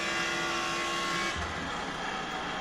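Race car engine in a NASCAR racing simulator at Pocono, a steady droning hum that drops in pitch and eases off about halfway through, as if lifting for a corner.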